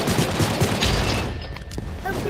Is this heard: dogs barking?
no